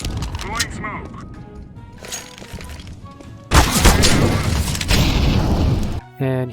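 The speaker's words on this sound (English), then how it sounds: "Throwing a grenade. Throwing smoke." Grenade and smoke grenade throws in the video game CS:GO, a burst of sharp, clattering impacts and a loud hissing rush mixed with game noise, with a sudden loud surge midway and a brief cut near the end.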